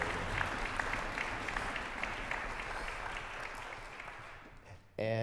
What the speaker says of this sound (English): Give a round of applause for Linda and Jim.